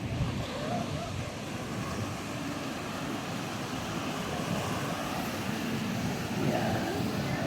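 Ocean waves at Camaya Coast beach in Bataan, a steady loud roar of rough surf with wind rumble, continuous and close, no talk.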